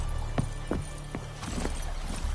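Hooves of Roach, the horse in The Witcher 3: Wild Hunt, pound in a steady galloping clip-clop rhythm of distinct thuds, close and clear over a low ambient bed.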